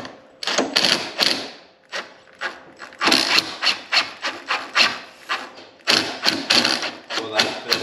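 Bolts on a Vmax drop bracket lift kit are tightened with a wrench, a close, steady series of rhythmic ratcheting rasps and scrapes in quick repeated strokes, with someone speaking briefly.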